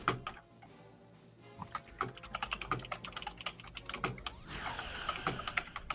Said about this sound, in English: So you might hear Goal furiously typing.